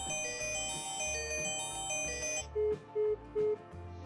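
A myBand 4family wristband for seniors or children rings with an incoming call, playing a bright repeating electronic melody that then shifts to three short evenly spaced beeps, loud and close.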